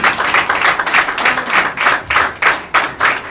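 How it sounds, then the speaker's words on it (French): A church congregation claps for the Lord in steady, rhythmic unison, loud and close, with roughly ten even beats and no voices over them. "Acclamez ça pour le Seigneur."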